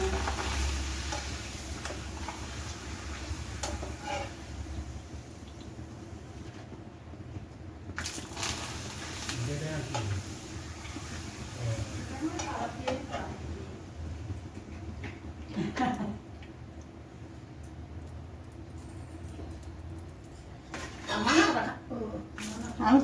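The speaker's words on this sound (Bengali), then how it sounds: "আমি পাপড় ভাজছি।" Papad frying in a pan gives a soft, steady sizzle and occasional stirring scrapes, heard close by under ongoing talk in a home kitchen.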